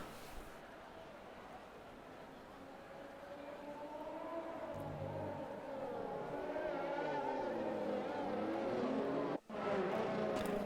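Video game race cars on a formation lap at a China circuit, engines whining and droning as they pass, pitch sliding up and down over steady background noise.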